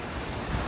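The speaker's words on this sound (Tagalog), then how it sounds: "Sarap ng dagat dito sa amin." Sea waves at Guinsularan beach in Duero, Bohol, on a windy day, a steady wash of surf under heavy wind buffeting on the microphone.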